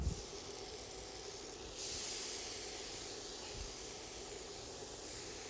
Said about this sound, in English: You can hear it starting to sizzle right now.